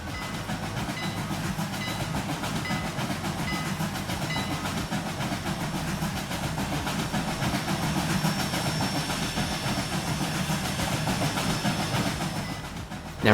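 A train rolls steadily through the Trainz 2019 railway simulator on the Brighton Branch, with a continuous rumbling drone and faint clickety-clack running unbroken for the whole stretch, fairly distant and even in level.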